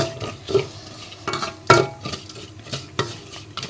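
Chili powder being stirred as it heats in a pan for Kerala inji curry, with repeated scraping and clinking of a spoon against the pan over a faint sizzle, close by.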